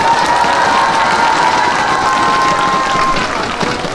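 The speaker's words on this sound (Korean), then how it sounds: "오늘 참가해주신 참가자 여러분들께 큰 박수 한번 부탁드리겠습니다." A large crowd at the Asan national housewives' singing contest applauds and cheers the contestants, a loud, dense wash of clapping and shouts over a sustained tone that fades slightly near the end.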